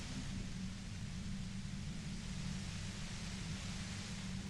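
A steady hiss of white-noise static in the Disco Elysium game, a dense, unbroken rushing wash with a heavy low rumble that holds at an even level throughout, with no voices.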